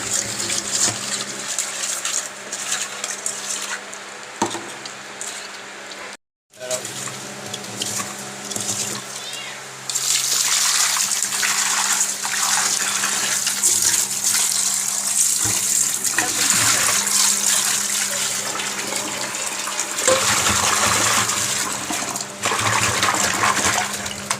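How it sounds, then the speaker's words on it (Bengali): Fish are rinsed with salt under running water, a loud, continuous splash and gush from a tap with brief pauses and handling sounds, while a person talks at times. "মাছগুলো ধুয়ে নেবো"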